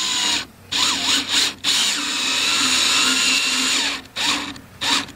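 A power drill drives screws in several short whirring bursts separated by brief pauses, close and loud, each burst rising and falling in pitch as the screw seats; no talking.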